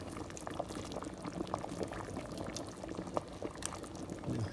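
Meatballs made from ground meat are dropped one after another into a pot of boiling broth for albóndigas with zucchini, giving soft splashes over a steady, close bubbling simmer.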